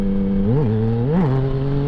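A modded motorcycle engine revs twice in quick succession, pitch rising and falling, then settles back to a steady idle, close and clear with no talking.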